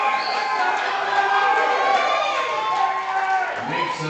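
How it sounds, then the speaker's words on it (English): Spectators at a powerlifting regional championship in the Cayman Islands roar and cheer for a local lifter's deadlift, a loud, sustained wall of crowd noise with shouts, close and continuous throughout. "The crowd is going nuts."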